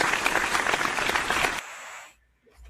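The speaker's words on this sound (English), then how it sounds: "We had to hit the applause button." Canned applause sound effect triggered from a soundboard button during a podcast: a loud, dense burst of clapping and cheering that cuts off abruptly after about a second and a half, leaving near silence.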